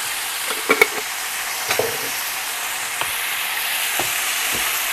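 Pork stir-frying with oyster sauce and seasoning powder in a pan, a loud continuous sizzle broken by several clanking spatula scrapes and stirs, with no talking.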